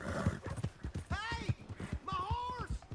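Horse hooves clop in the video game Red Dead Redemption 2, a quick run of low thuds under a rising, wavering whinny and other game sounds.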